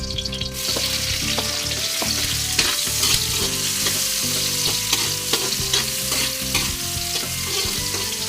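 Onions sautéing with plenty of ginger in a pan while cooking crab with squash and string beans, a steady loud sizzle with frequent clinks and scrapes of stirring throughout, no talking.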